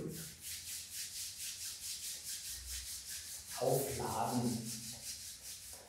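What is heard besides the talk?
hands rubbing together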